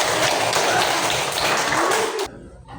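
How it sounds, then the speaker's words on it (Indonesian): Students in a third-grade classroom applaud a presenting group with dense, loud, overlapping clapping. It breaks off abruptly near the end. "beri tepuk tangan dulu buat kelompok 1"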